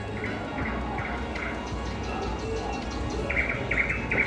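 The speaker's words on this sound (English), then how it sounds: "Is there birds in here?" Small birds chirp repeatedly indoors in Stockholm in short bursts, with a busier run of calls near the end, over a steady low background hum.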